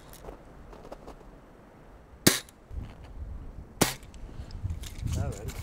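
A gun shooting blanks cracks twice outdoors, two sharp loud reports a second and a half apart, with muffled movement and faint voices between them.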